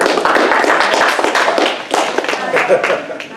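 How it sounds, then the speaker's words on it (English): A lecture-hall audience claps for a student at a game design event, a dense patter of hand claps running throughout with voices mixed in. "Let's give a round of applause."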